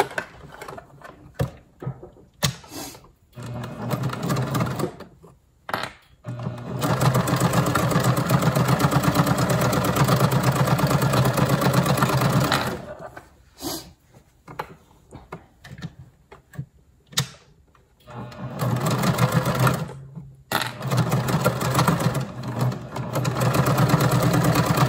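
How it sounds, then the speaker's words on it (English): A sewing machine stitching a fabric mask runs in several bursts, one long steady run in the middle and shorter starts and stops around it, the motor hum and needle clatter loud and close. "we're going to sew right here on that other row of stitching on both sides"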